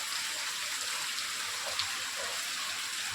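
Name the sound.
heavy rain falling on a maize field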